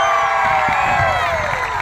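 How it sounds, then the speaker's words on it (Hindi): An audience at a live concert in Karachi roars with cheering, clapping and rising and falling whistles, a loud, dense crowd swell that continues throughout. "अब आपकी सीटी भी बजेगी, ताली भी बजेगी और शोर भी होगा"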